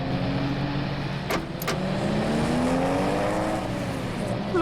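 A car driven fast on a road, engine droning steadily with a rising whine and brief sharp bursts of passing noise, loud and close throughout.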